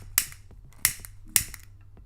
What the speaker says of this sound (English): yeah, the lighter is working pretty nice too.